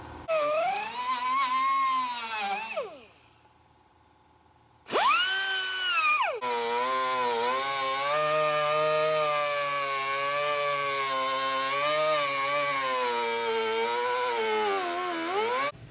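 A power tool cuts a NACA duct opening in a race truck panel, giving a loud, steady high-pitched whine that wavers with load, stops for about two seconds, then starts up again and runs on.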